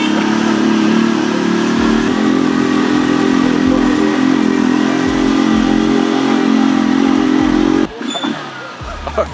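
Three motorbikes ride up a steep hill through a Rio favela, a loud, steady engine drone close by that cuts off abruptly near the end, with no talk.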